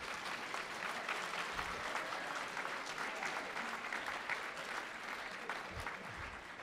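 A church congregation applauding during a sermon, sustained dense clapping from many hands that stays even and fairly distant throughout, with no voices standing out.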